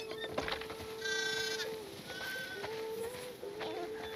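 Sheep on a farm in The Last of Us Part II give a few short, wavering bleats over a soft outdoor background, with faint bird calls nearby.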